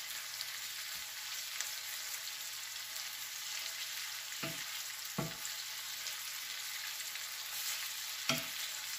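Tiger prawns fry in a pan with a steady, close sizzle, broken by a few sharp scrapes and clunks as they are flipped and stirred.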